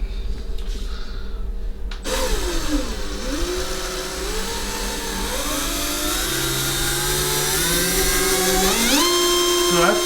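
Small 1/14 scale RC hydraulic dump truck motor whirring in first gear, a loud close electric whine that starts abruptly and holds steady with slight rises and dips in pitch.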